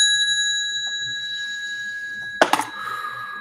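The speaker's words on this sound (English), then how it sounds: "give you a little bell" A small handbell rings with a sustained, bright multi-tone shimmer that fades slowly, followed near the end by a brief clatter as it is set down.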